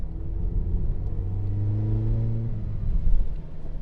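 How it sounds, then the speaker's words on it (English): A 2016 Mazda MX-5 ND fitted with a Scorpion exhaust revs up close by, its engine note climbing steadily in pitch over a deep exhaust rumble, then easing off near the end. "And I have to say that exhaust does sound lovely."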